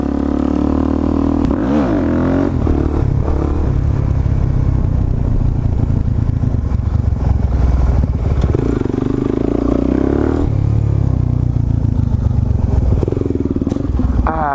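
A motorcycle ridden on a street while doing a wheelie, its engine loud and close with rising and falling revs, clattering and wind noise throughout.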